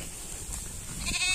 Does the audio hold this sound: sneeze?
no